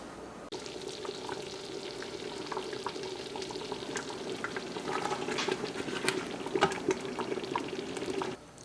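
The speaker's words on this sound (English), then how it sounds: "Might take a little bit back to a rolling boil with the sugar." Apple jam with sugar at a rolling boil in a pot: a steady, fairly quiet bubbling and popping hiss that runs continuously, with slightly busier spurts toward the end.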